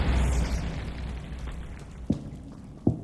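Bombarda spell blast in the video game Hogwarts Legacy: a loud booming explosion that fades into rumbling debris, followed by two short sharp pops, with no talking.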